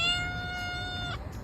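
A cat gives a single drawn-out, tonal meow that holds steady and then cuts off, heard close and clear over a low background hum.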